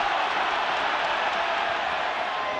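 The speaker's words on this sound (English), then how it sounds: "The noise of the ground rumbling under the kick chase from Josh van der Fleer" Rugby stadium crowd at a Leinster versus Bulls match roaring as a kick chase unfolds, a steady, dense wash of noise from many voices filling the ground without letup.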